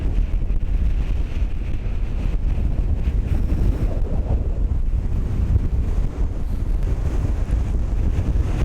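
Strong wind buffets a microphone outdoors in Cathedral Canyon, a steady low roar and rumble with gusty swells throughout, no voices.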